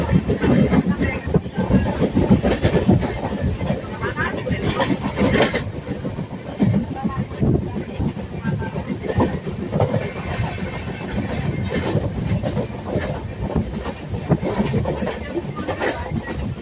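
A passenger train on the Okha–Nathdwara route rumbles loudly and continuously along the rails between Dwarka and Ahmedabad, with a dense clattering roar and occasional rattles throughout.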